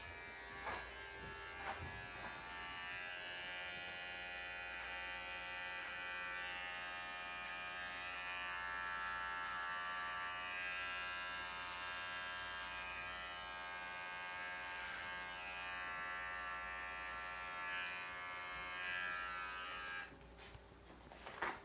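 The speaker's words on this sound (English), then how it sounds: "So to start, I will shave some of the hair off of the prepuce." Electric clippers buzz steadily and close up while shaving hair from an animal's prepuce in a clinical setting, a constant hum lasting about twenty seconds before it cuts off with brief handling noise.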